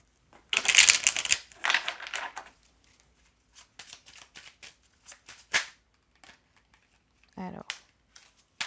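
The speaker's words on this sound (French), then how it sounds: "Je tire trois cartes de chaque." Oracle cards being shuffled and drawn, a burst of riffling flutter followed by scattered dry taps and slides of single cards, close and fairly quiet, with a voice speaking at moments.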